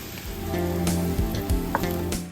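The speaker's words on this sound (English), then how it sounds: "once you've sauteed your onions and your celery, you wanna go ahead and add your ground beef" Ground beef sizzling in a pan of sauteed onions and celery for shepherd's pie, a steady close crackle with a few soft scraping stirs.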